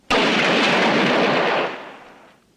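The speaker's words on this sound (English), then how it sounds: "Load! Aim! Fire!" A single loud volley of rifle fire crashes out at once on command, a sharp sudden blast with a broad roar that rings for over a second and then fades away.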